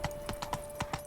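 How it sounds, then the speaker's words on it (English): A horse's hooves clip-clop at a steady walking rhythm in The Witcher 3, six distinct soft hoofbeats, fairly quiet and close. "Whoa there, Roach."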